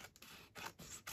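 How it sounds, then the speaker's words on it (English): Quiet scissors snip through paper on a layered envelope journal page, a few short cuts spread over about a second, close and soft with no talking. "I'm going to snip that off"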